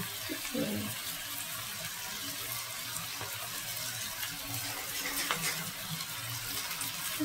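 Pre-boiled chow mein noodles fry in a pan with a faint, steady sizzling hiss that carries on evenly throughout, with occasional soft stirring scrapes.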